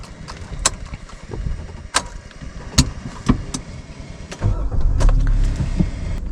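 A 2024 Maruti Suzuki Baleno starts up: a series of sharp clicks and clunks, then its engine catches into a low, steady idle hum that fills the second half. No one speaks.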